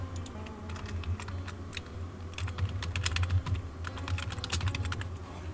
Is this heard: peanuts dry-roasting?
no